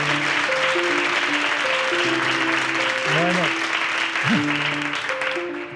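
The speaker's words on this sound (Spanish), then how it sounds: "Muchas gracias por el aplauso," An audience applauds a motivational speaker, a steady dense wash of clapping from a crowd heard without pause, with tonal sounds and a faint voice mixed underneath.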